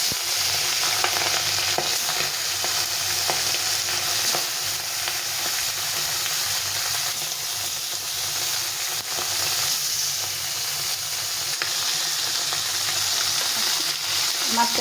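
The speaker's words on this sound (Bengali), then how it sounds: "তেলটা গরম হয়ে গেছে, একটু ছড়িয়ে দিলাম, দিয়ে এখন মাছগুলো দেবো।" Tengra fish frying in a little hot oil in a pan, a steady, close, broadband sizzle that hisses on without pause, with occasional light crackles and no talking.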